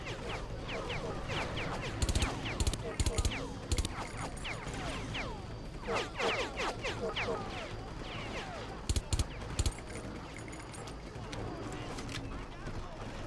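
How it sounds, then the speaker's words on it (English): Gunfire in the Far Cry shooter game: scattered, fairly quiet shots and short bursts under steady ambient game noise, with someone talking over much of it. "Who the hell's shooting at me?"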